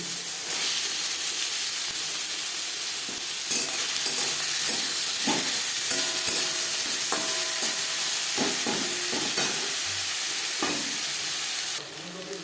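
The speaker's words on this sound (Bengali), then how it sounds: "দু তিন মিনিট আলু ভেজে নেওয়ার পর" Potatoes fry in hot mustard oil for an aloo kachori filling, a loud, constant sizzle and hiss with intermittent scraping and tapping of a spatula against the pan, close by and without talk.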